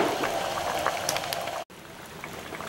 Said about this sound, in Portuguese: O figo está cozinhando.